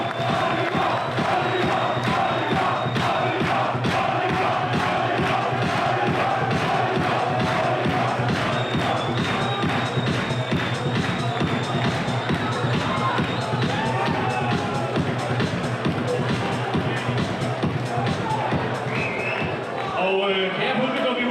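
A large crowd at a Fight Arena 2012 fight night cheers and roars continuously around an arena ring, a dense sustained wall of voices with whoops rising above, while an announcer's amplified voice talks over it.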